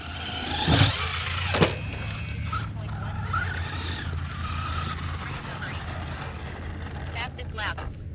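A Traxxas Rustler 4x4 VXL electric RC car running its final lap, heard as a whining motor that rises and falls with a couple of sharp skids, while a person talks over it.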